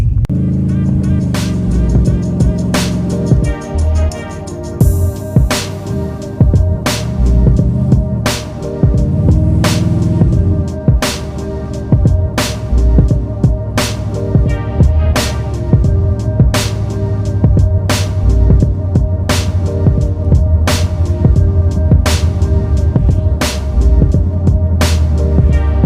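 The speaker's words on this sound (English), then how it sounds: "The car is running a lot like smoother, especially sitting here idling." A Chrysler 300C engine idles after a spark plug change, a steady low running hum with regular sharp ticking pulses repeating about once a second, loud and close, with no talk.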